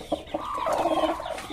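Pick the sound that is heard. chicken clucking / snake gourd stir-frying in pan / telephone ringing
chicken clucking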